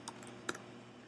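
Computer keyboard keys are tapped at a Windows 7 login window, just a couple of faint, quick clicks against quiet background hiss.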